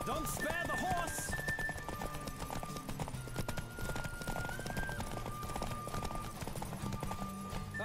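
Horse hooves clip-clop at a rapid galloping rhythm during a race in a Witcher video game, with a steady drumming of hoofbeats over game music and a voice talking alongside.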